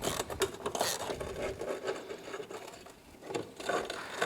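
A tool works loose the 10 mm bolts holding a voltage regulator on a 2015 Polaris RZR 900S, giving a busy, rapid mechanical rattling and rasping that carries on up close throughout.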